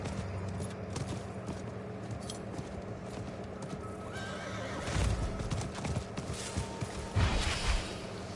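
Horse hooves clip-clop in a steady walking rhythm through a video game scene, with a horse neighing partway through and game whooshes and effects layered around it.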